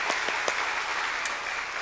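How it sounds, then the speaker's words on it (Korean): A church congregation claps together at a Korean autumn early-morning revival service, a dense, even wash of applause that stays steady and fairly close for the whole two seconds, with a few sharper individual claps standing out. "우리 하나님께 영광의 박수 올려드리겠습니다."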